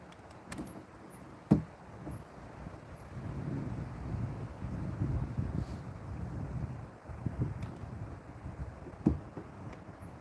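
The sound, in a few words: wind blowing on the water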